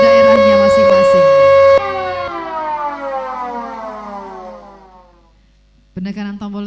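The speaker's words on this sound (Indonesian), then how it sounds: "Penekanan tombol sirine telah selesai." A ceremonial siren set off by pressing a button at the opening ceremony of a provincial sports week, a loud wailing tone that winds down and fades over several seconds before an announcer speaks.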